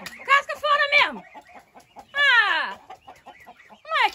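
Backyard chickens cluck and squawk in agitated bursts near a snake attacking the birds, loud and close, with a few harsh calls separated by short pauses.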